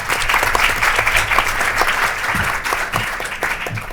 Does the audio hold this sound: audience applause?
yes